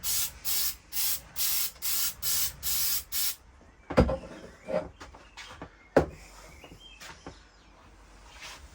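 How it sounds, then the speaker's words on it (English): WD-40 lubricant sprayed onto the bearings of a bonsai pot in about seven short, evenly spaced bursts, close and loud, followed by quieter rubbing and knocking sounds. "I'm just going to use some WD-40."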